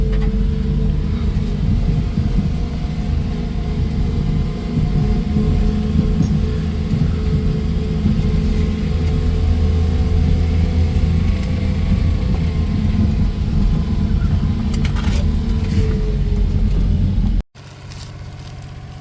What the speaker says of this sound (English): And now for the dirt drive test. We are in four-wheel drive low.